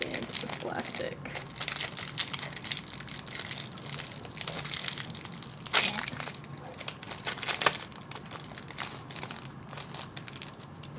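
A plastic wrapper crinkles and crunches steadily as a pack is torn open, dense rustling bursts close up with quiet voices murmuring underneath.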